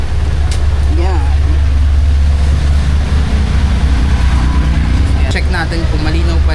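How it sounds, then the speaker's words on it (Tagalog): A jeepney engine drones loud and steady from inside the vehicle, a constant low rumble heard throughout, with a voice talking intermittently over it. "Check natin kung malinaw pa rin yung mic kahit na maingay yung makina ng jeep na."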